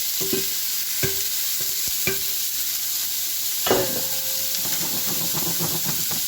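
Fresh green beans sizzle in butter and garlic in a pan, a steady hiss punctuated by a few sharp clanks and scrapes as they are laid in and stirred.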